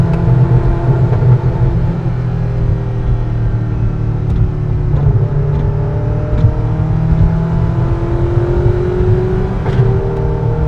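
Ferrari F40 LM race car engine at speed, a loud, steady low drone with rising and falling gear pitches and quick shift breaks, close and continuous with no talk.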